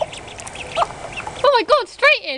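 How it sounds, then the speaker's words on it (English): Ducklings give bright, rising peeps and chirps close by, several short calls in quick succession after a person speaks excitedly over them. "That is a happy duckling."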